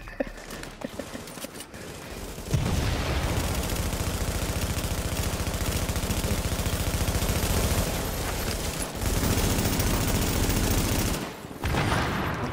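Gunfire in The Division, dense sustained automatic bursts that fill the scene with rapid overlapping shots, loud and close, with brief pauses between volleys.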